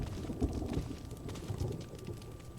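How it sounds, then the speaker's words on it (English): Thunderstorm ambience in the Resident Evil Remake video game: a steady wash of rain with low, rolling rumbles of thunder swelling and fading, fairly quiet and continuous with no voices. "I do like that there's a thunderstorm raging outside."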